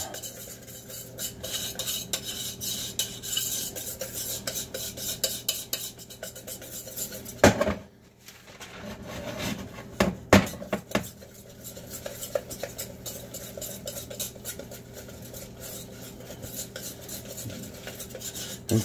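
A spoon scrapes and clinks around a bowl while brownie batter is stirred, a continuous soft rhythmic scraping with a few sharper knocks against the bowl partway through, close and fairly quiet.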